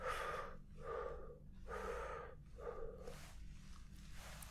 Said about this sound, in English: I'd like you just to quicken your breath a little bit.